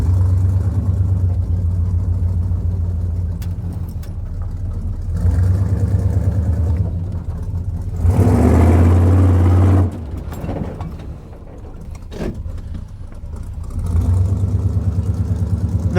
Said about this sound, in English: I'm gonna try to get a really cool shot, or a few cool shots of the truck coming through this